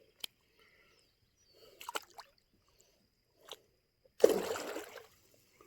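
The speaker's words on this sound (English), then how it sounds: "Oh, did you hear that splash?" A short, clear splash breaks the surface of a strip mine pond, likely a big bass, after a few faint taps and small knocks in the quiet outdoor air.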